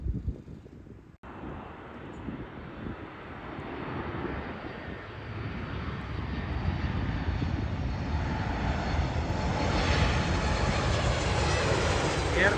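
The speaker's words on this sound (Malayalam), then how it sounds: "പുറകെ വേറെ ഒരു ഫ്ലൈറ്റ് വന്നോണ്ടിരിക്കുന്നത്." An airplane approaching an airport in Canada, following a private jet, makes a jet roar that swells steadily from faint to loud and close over several seconds, after a brief sharp knock at the start.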